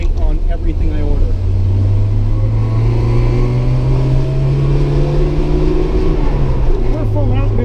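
Lada 2104 wagon with a roughly 70-horsepower engine held at full throttle on the road, a loud steady drone that rises slowly in pitch, with road and wind roar and occasional talk inside the car.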